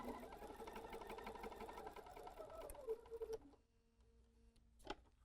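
Sewing machine top stitching a fabric face mask over its elastic, a steady fast stitching rattle for about three seconds that then stops, followed by quiet handling and a brief click near the end.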